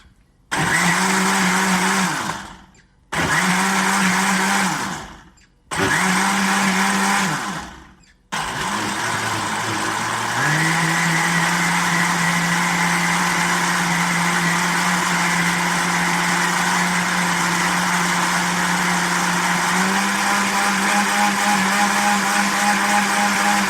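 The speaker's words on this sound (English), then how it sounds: "So now it's time to just blend it. Again, this is a really simple, inexpensive blender. Just a Black & Decker you get anywhere." A Black & Decker blender whirs loudly in three short pulses, then runs continuously to blend a green health drink smoothie, its motor pitch shifting as the contents loosen.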